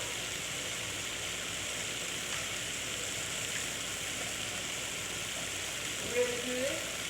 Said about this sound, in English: But I am gonna rinse those off.